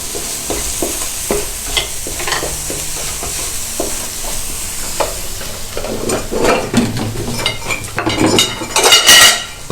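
Eggs frying and being stirred with spices and coriander powder in a pan while making shahi chana, with steady sizzling and repeated clinks and scrapes of a utensil against the pan, growing busier and louder toward the end.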